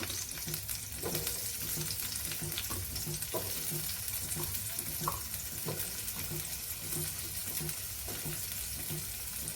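Steamed chickpeas and sprouted legumes stir-fried in a pan, a steady sizzle with repeated soft scraping and clinking of a spatula stirring, close and continuous.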